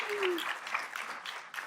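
Light applause at a Capitol Hill luncheon on ultra-processed foods for a nutritionist, fairly faint and brief, with a voice briefly audible over it.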